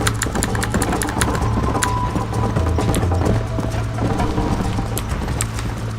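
Steady clip-clop of horse hooves trotting in Red Dead Redemption, continuous and fairly loud, with a low rumbling background and occasional sharp ticks.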